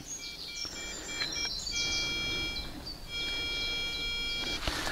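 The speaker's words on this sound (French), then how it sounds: "on entend toujours les oiseaux, vous voyez" Birdsong outdoors, several chirping and whistled calls repeating over quiet background noise, fairly faint, with no talking.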